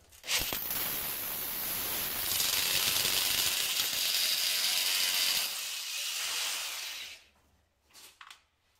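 Power drill boring a second hole for a wall plug to fix a plasterboard track rail, a loud continuous whir for about seven seconds before stopping, followed by a few brief clicks.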